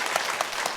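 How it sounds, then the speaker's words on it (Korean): Brief burst of steady congregation applause in a church at a Wednesday service, even rhythmic clapping filling the room with no voices heard. "우리 박수 한번 열심히 좀 쳐주세요."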